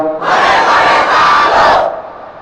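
A large crowd at an outdoor Islamic sermon gathering shouting back in unison after a takbir call, a loud collective roar that swells for about two seconds and then fades.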